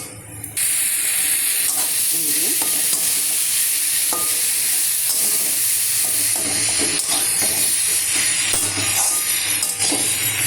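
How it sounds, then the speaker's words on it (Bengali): Food sizzles and hisses steadily in a hot pan, a loud continuous frying crackle with occasional stirring scrapes, after a brief quiet start. "আমি দিয়ে দিলাম, ভাজা হচ্ছে"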